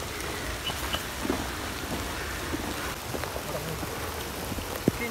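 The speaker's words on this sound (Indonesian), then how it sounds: "Hujan terus" Steady rain on a narrow mountain trail near a summit junction, a dense continuous patter with occasional louder drops, close and even throughout with no talking.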